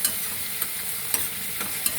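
Tomato frying in a pan while a spoon stirs it, a steady close sizzle broken by a few sharp scraping clicks at regular intervals, with no voices.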